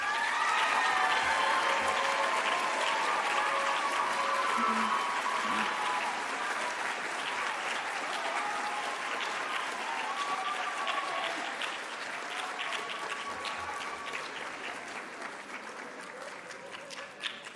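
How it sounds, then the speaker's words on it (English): At a school arts promotion ceremony, an audience of parents gives a long, sustained round of applause for the piano majors, with faint voices and cheers mixed into the clapping as it slowly tapers off. "Piano majors, please face your parents for a round of applause."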